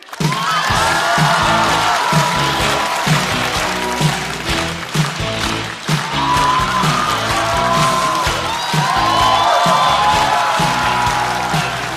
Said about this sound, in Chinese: 掌声欢迎季烨。